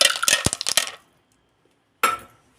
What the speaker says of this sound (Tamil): இப்போ இதுலேயே ஐஸ் க்யூபும் சேர்த்துக்கலாம்.